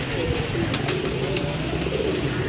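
A large pigeon named Tyson coos on a rooftop loft, with a low repeated cooing amid other birds and background noise.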